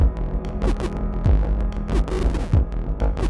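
A ratcheting synth sequence from a Neutral Labs Elmyra 2 plays alone, with rapid repeated stuttering pulses and throbbing bursts over a steady low hum.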